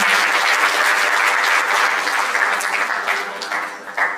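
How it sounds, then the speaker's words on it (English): A conference audience at a mental wellness and counselling event gives loud, dense applause that holds steady and thins slightly toward the end. "Another round of applause for me"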